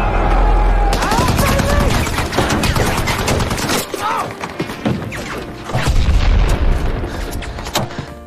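Battle scene from the film The Outpost, with a Taliban assault on an American outpost: loud, continuous gunfire and booming explosions fill the clip, dense and close, with a deep blast at the start and another near the end.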